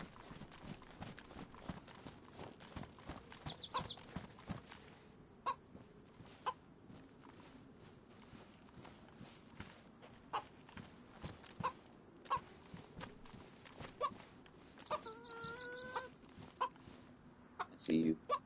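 Chickens cluck intermittently in the survival video game DayZ, quiet and scattered amid soft footsteps and game ambience, with a few brief louder bursts and a faint voice.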